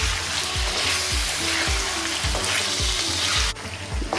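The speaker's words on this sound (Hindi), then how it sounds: "अब अदरक लहसुन के साथ भी हम इसे फ्राई करेंगे अच्छी तरह से।" Mutton pieces frying with ginger garlic paste in a pan, a loud, steady sizzle with rhythmic scraping stirs about twice a second, close up and without voices.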